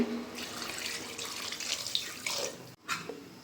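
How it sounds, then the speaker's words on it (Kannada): Water from a glass pours into a pan of mutton kebab mixture in a steady splashing stream, ending with a brief pause and a final splash. "1 ಗ್ಲಾಸ್ ನೀರು ಹಾಕ್ತಾಯಿದ್ದೀನಿ"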